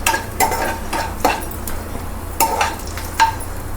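Garlic and chillies fry in a pan for gongura pachadi, a close, bright sizzle broken by several quick scraping stirs of a spoon against the metal.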